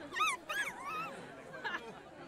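A puppy whimpering in the video game Minecraft Story Mode, several high, wavering whines and yips up close, separated by short pauses.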